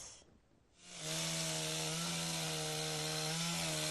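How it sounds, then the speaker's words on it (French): Chainsaws cut through wood in a forest in the Bauges mountains, a steady loud engine whine rising from a brief quiet gap and holding level without talk. "Le bruit des animaux est couvert par celui des tronçonneuses au cœur des Bauges."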